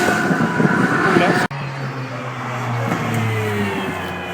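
A small GT race car at the Goodwood Festival of Speed roars loudly past with a strong engine note, then after a sharp break a lower, steadier engine drone carries on, with a voice partly under the noise.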